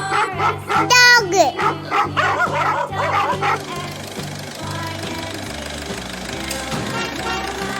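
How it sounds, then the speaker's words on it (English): A dog barks several times in quick bursts over music in a children's alphabet lesson, with a brief high yelp, before the barking fades under the ongoing backing track. "D for dog."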